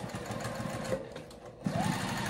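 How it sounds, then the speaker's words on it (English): A sewing machine runs steadily, stitching back over a fresh seam on a zippered circle bag, with a short pause near the middle before the motor resumes, close and continuous with no talk. "I'm just going to go over what I just sewed."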